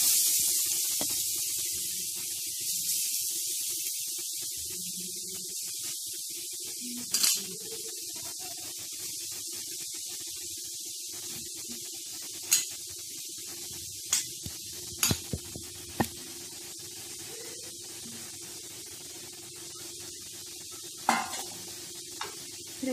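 Grated carrot sautés in a pan for carrot halwa, giving a soft, continuous sizzle at low volume, broken by occasional sharp clinks and scrapes of a spoon stirring against the pan.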